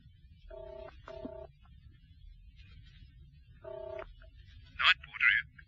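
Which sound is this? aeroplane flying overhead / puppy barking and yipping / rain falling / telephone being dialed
telephone being dialed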